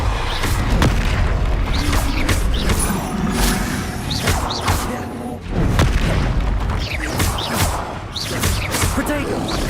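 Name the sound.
Depulso spell blast in video game Hogwarts Legacy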